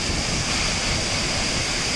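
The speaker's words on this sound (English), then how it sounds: "So this is the beautiful Sabbitham Waterfalls" Rushing water at Sabbitham Waterfalls near Peddapalli, Telangana, a steady, dense broadband roar that holds evenly throughout without pauses, with no voices over it.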